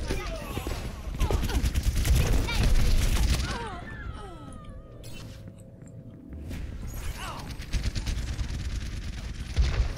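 Dense, continuous gunfire and explosive booms from a match in the video game Overwatch, loud and busy through most of the moment, easing briefly midway before resuming, with a voice speaking over the action.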